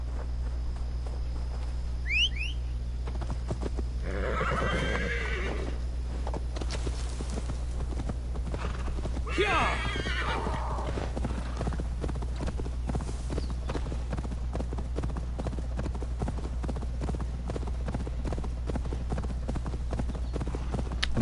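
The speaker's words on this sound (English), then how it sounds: "The horse on this is also actually really, really good as well." Horse hooves clip-clopping at a steady walking rhythm in the video game Assassin's Creed Valhalla, with a brief whinny early on over a constant low ambient hum.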